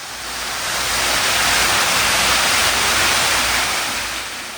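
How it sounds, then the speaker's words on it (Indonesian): An artificial waterfall or fountain beside a hotel gym at the Grand Aston Puncak in Bogor pours a loud, steady, close rush of splashing water that swells and eases slightly, with no voices. "suara gemercik air ini bikin kita syahdu ya nge-gymnya"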